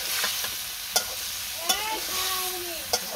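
Drumstick (sajna) curry stirred in a hot pan on the stove, a spatula scraping and clacking in sharp knocks over a steady sizzle of frying, fairly close, with no talk.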